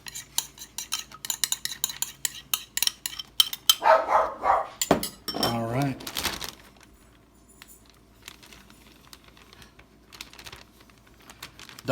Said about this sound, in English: Dog's going crazy at the skateboarders outside.